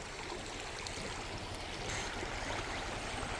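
Creek water flows and trickles in a continuous broad rush, close and steady, with no voices over it.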